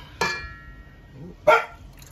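A dog barks twice, about a second apart: short, sharp, fairly loud yaps close by in a home kitchen during banana bread baking, with light background clatter.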